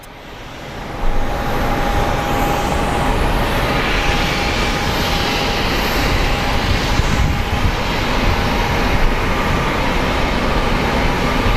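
An airliner roars past close by at Phoenix Sky Harbor airport, a loud, broad, steady jet rumble with a faint whine. The roar comes up sharply at the start, then holds without any talk.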